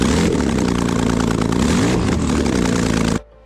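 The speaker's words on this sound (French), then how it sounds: "Un pot d'échappement à soupape électronique." A Porsche 911 GT3 RS with an electronic valve exhaust runs loud and close, a dense throaty engine roar held steady for about three seconds before it cuts off abruptly.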